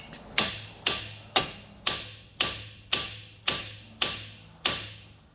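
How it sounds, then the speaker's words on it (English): Mechanics strike metal with hammers to free a stuck brake caliper, ten evenly spaced sharp metallic blows with a short ring after each, close and loud with no talking. "Oh, hammers flying over here."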